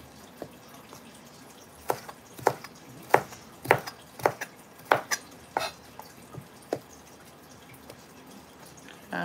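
Onions being chopped for cooking: a knife knocks against a board in an uneven series of sharp taps, close by, over a faint hiss of background noise.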